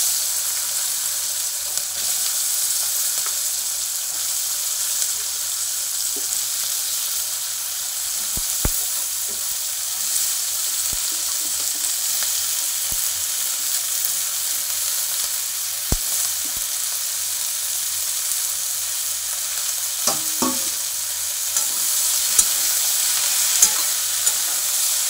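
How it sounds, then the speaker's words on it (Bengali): Chopped vegetables fry in leftover fish oil in a pan for a kalai greens dish, a steady hissing sizzle throughout with occasional sharp scrapes and clinks as they are stirred. "তো এখানে সবজিগুলো ভেজে নিই"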